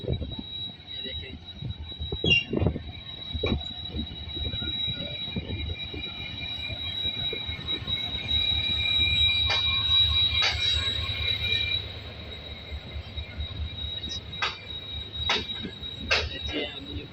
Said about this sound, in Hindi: देखिए 30 लोकोमोटिव लीड कर रहा है 42 डाउन कराक्रम एक्सप्रेस को, जो कि अभी पहुंच चुकी है।